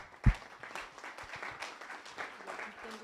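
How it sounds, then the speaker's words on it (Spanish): An audience at a public dialogue event in Guadalajara breaks into applause, a sharp clap at the start followed by steady, moderate clapping from a crowd that continues throughout. "La animamos con un aplauso."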